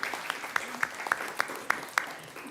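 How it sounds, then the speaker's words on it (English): A round of applause at a city council meeting, several people clapping at a moderate pace with a few sharper claps standing out, steady for a couple of seconds. "Let's give her a round of applause."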